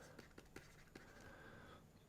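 A pen scratches across paper while an exam answer is written out, giving a few short, quiet strokes in a soft rhythm and then a brief stretch of continuous scribbling, close to the microphone in a quiet room.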